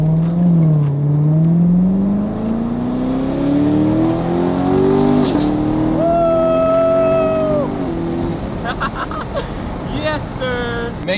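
A C7 Corvette in sport mode drives with its engine droning and rising in pitch under accelerations, with people talking over it inside the car.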